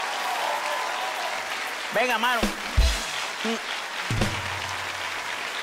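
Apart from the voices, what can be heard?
studio audience applause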